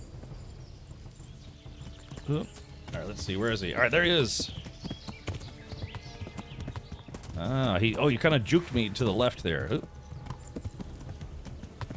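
Horse hooves clip-clopping in the medieval video game Kingdom Come Deliverance, a steady rhythmic trot heard under someone talking over the gameplay.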